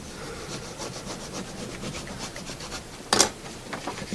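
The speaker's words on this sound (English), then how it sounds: "I'm going to rub wherever I can see the pencil marks" A pencil-marked sheet of paper is rubbed to transfer a drawing, giving a continuous soft, scratchy rubbing close up, with one brief sharper scrape near the end.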